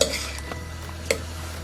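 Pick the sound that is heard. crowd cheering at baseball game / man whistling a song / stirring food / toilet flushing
stirring food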